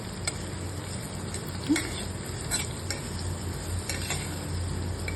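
Chopped tomatoes fry in a pan of dal fry tempering with spices and curry leaves, a steady close sizzle with soft stirring scrapes and a few light utensil taps, no talking.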